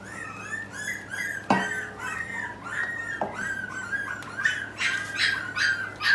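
Puppies whimper and yip in a series of high, wavering cries with a couple of sharp bark-like onsets, fairly close, over a steady low hum while they wait to be fed goat milk paste.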